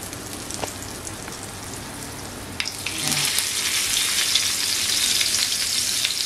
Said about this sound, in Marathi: तर आता आपण हा बांगडा फ्राय करायला ठेवूया